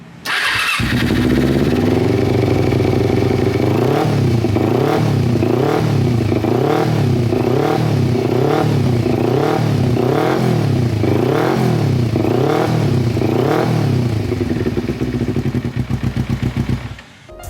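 A carbureted Kawasaki Ninja 250 motorcycle with an aftermarket exhaust starts and revs repeatedly in steady rhythmic bursts, loud and close, with a deep throaty exhaust tone throughout.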